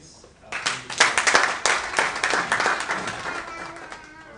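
An audience at a talk on resilience and hard work bursts into applause, a dense wash of many hands clapping that swells quickly, holds for a few seconds, then slowly thins out.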